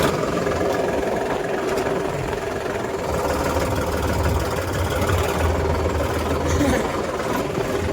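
A tractor engine idles in a farm field, its steady low rumble and mechanical knock running unbroken and loud close by.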